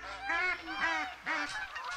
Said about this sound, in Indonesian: Kalau manggil angsa pakai yang ini.